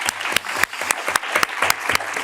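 Audience applause for a panel at an info-day session, a steady wash of clapping with sharp louder claps standing out at a regular rhythm, fairly close and continuous throughout.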